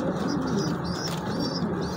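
A pigeon coos in low, soft, repeated rolling calls, close by and steady, with faint higher chirps from other birds in the background.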